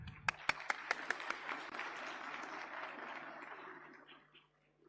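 An audience at an annual function gives a round of applause that opens with a few sharp, distinct claps and then settles into a soft, distant wash of clapping before fading to quiet.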